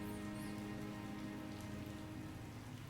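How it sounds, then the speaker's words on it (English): Steady, dense rain pours onto hard city streets in a video game, a continuous hiss of countless drops with no breaks or voices. "Biblical rain pummels the city, but the stains remain."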